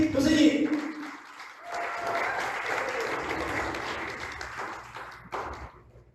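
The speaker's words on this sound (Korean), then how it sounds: "우리 한 번 더 힘찬 박수로" Audience applause welcoming a professor at a lecture event, a brief spoken voice at the start giving way to a steady, moderately loud wash of clapping that thins toward the end.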